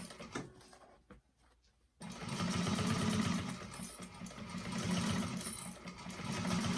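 A sewing machine back stitches a Pandora-style bag seam, starting with faint short taps and then settling into a loud, continuous close-up hum of stitching.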